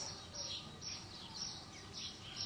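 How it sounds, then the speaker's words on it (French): Brief bright chirps from small songbirds repeat every half second or so over a soft, steady background hiss, faint and fairly close. "Accueillez les petits oiseaux qui chantent."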